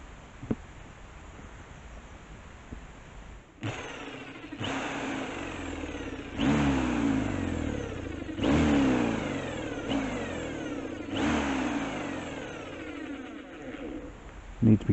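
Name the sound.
drill with a spade bit countersinking a wooden piece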